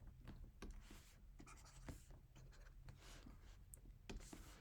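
Chalk or marker scratches and taps on a board during a university statistics lecture, a quick series of short strokes and clicks, faint and close, with no speech.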